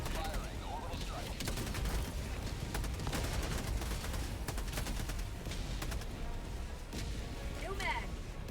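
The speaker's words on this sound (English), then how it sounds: "Firing orbital strike." An orbital strike bombardment pounds down in a video game, with a continuous rumbling barrage of explosions and rapid gunfire-like blasts, and voices faintly present beneath the din.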